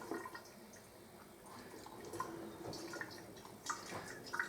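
Hot acacia syrup being poured slowly, giving soft, faint liquid trickles and drips with small splashy accents, close and quiet, no talking over it.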